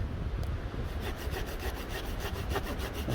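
Steady back-and-forth rasp of a saw cutting through wood, close and continuous, with a rhythmic scraping pulse and no voices.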